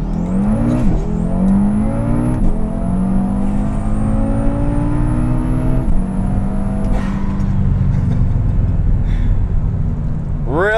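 A stock-bottom-end Audi RS3 with a hybrid turbo and 7-speed dual-clutch gearbox accelerates hard, its engine note climbing through several quick upshifts with brief dips between gears, loud and close the whole way.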